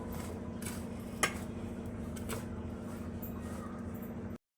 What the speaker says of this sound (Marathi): तो मसाला यात घालायचा हे पूर्ण सर्व हरवून घ्यायचं असं पूर्ण मिक्स व्हायला पाहिजे